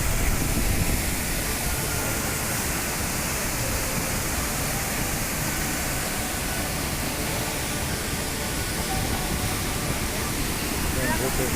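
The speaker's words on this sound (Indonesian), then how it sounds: "tiba di air terjun" Steady broadband roar of the Curug Sawer waterfall near Situ Gunung, constant and close with no breaks, a dense rushing wash throughout.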